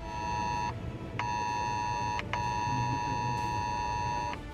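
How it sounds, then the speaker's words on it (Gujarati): An emergency alert tone sounds on a mobile phone in Ahmedabad, Gujarat, a loud, steady, harsh electronic beep in three long bursts with brief gaps, over a bed of background noise. "અમદાવાદ સહિત ગુજરાતના કેટલાક જિલ્લાઓમાં આજે બપોરે લોકોના મોબાઈલ ફોનમાં એક ઇમરજન્સી સાયરન"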